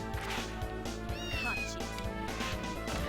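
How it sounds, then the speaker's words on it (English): A cat meows repeatedly in the background of Castlevania: Order of Ecclesia gameplay, its wavering cries rising over rhythmic video game music and effects. "You can probably hear in the background that there's a cat going meow a lot"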